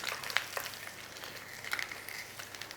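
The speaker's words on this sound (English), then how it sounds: "Nice little sizzle whistle on here, 2 to 3 minutes, that's all." Food sizzles quietly in a pan, soft crackles and pops over a steady hiss, no one talking.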